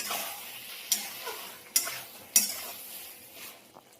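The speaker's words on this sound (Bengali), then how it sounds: "এবার যে মশলাটাকে তৈরি করে রেখেছিলাম সেই মশলাটাকে দিয়ে মশলাটাকে ভালোভাবে কষিয়ে নেবো।" Spice paste sautés quietly in a pan at close range, with a faint sizzle broken by three sharp metallic clicks of a utensil striking the pan, and no talking.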